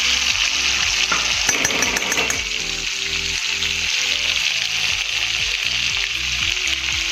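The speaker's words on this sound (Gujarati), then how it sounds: "હવે એમાં આપણે ક્રશ કરેલું લસણ એડ કરીશું." Crushed garlic dropped into melted butter in a pan, frying with a steady loud sizzle and scattered stirring clinks throughout.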